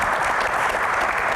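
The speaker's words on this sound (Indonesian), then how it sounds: "tepuk tangan semangat dulu buat Ibu Iren ya" An audience at an Indonesian Q&A event claps steadily and densely throughout, a sustained wash of applause with no gaps.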